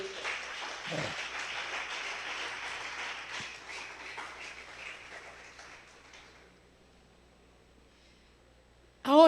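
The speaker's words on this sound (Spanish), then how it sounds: "Bríndele un fuerte aplauso al Señor en esta hora." Congregation applause at a Spanish-language church service, a dense wash of many hands clapping that holds steady for about six seconds and then quickly dies away into near silence.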